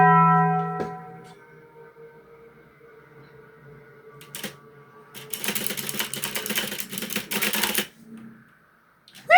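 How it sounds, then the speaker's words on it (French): Rapid, loud clattering of keys being hammered on a computer keyboard for a few seconds during Subnautica 2 gameplay, preceded by quieter tones and clicks, then a brief pause. "J'ai tabassé mon clavier aussi."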